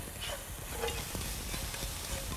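Cucumber, onions and other vegetables for chapchae stir-fried over a high flame, a continuous dense sizzle with quick repeated stirring scrapes, fairly quiet and close, no voices.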